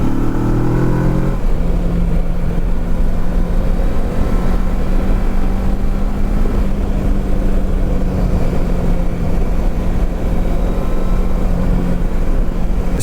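Motorcycle engine revving as the throttle is twisted on a road trip on Islay, Scotland; a steady loud engine drone with a rising tone early on, continuing under wind-like rumble throughout.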